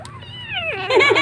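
A baby kitten gives a single drawn-out meow close by, rising and sliding down before breaking into a louder, wavering caterwaul at the end, with no talking over it.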